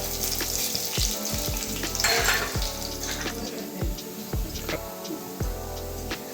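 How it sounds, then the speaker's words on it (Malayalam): Garlic and dried red chillies sizzling in a pan over a very low flame, with a steady fry hiss broken by repeated clinks and scrapes of a spoon stirring, close and clear. "ചെറുതായി ഒന്ന് ഇളക്കി കൊടുക്കാം."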